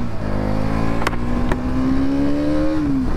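Motorcycle engine, a KTM Duke 200 or Bajaj Pulsar NS200 on a Sunday street ride, droning steadily and close as the ride starts, its pitch slowly climbing in a smooth rev, with two brief sharp clicks partway through.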